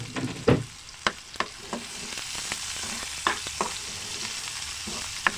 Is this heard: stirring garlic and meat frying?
yes